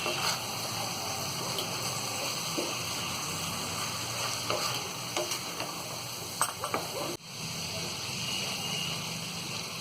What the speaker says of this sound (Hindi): गैस को यहाँ हम थोड़ा मद्दा करेंगे और इन सारी चीज़ों को अच्छी तरह हम मिक्स कर देंगे